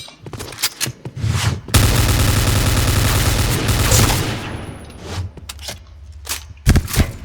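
Rapid sustained bursts of M4 Elite assault rifle fire in the shooter game Point Blank, loud and close, with a few isolated shots before and after a long continuous volley.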